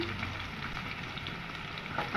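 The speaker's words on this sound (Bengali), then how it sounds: "আলুটা ভেজে নেব নুন দিয়ে" Potatoes fry with salt in a wok, giving a steady, close, even sizzle that runs alone throughout with no voices.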